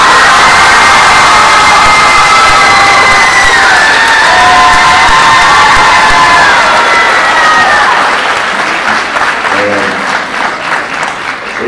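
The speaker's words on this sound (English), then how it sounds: "Let's give a big round of applause to all of our signees." Large crowd applauding and cheering for student athletes at a school college signing day ceremony, loud sustained clapping with whoops and shouts, fading toward the end.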